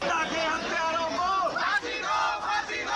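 A crowd of lawyers protesting at Saket court in Delhi, many voices shouting and chanting together in a loud continuous roar of overlapping cries.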